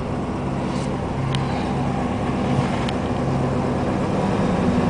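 A 1988 Camaro RS engine idling at about 1,000 RPM, a steady low rumble with a faint even pulse, heard close with a few light clicks over it.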